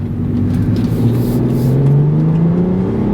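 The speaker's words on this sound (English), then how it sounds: "this is about half throttle" A 2012 BMW 335i M Sport coupe accelerating at about half throttle, a smooth, steady engine drone rising gently in pitch, heard from the cabin with no talk.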